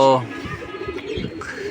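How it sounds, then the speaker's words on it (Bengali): A pigeon gives a short coo at the start, followed by quieter fluttering and background sounds nearby. "খাওয়া দাওয়া শেষে কবুতর উড়াইলাম"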